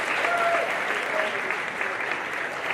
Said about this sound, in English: Let's pay all these kids off in a big round of applause